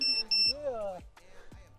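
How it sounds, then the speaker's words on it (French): A crashed FPV drone's buzzer gives two short, high electronic beeps, followed by people talking nearby. "rebranche la vite fait pour éteindre le buzzer"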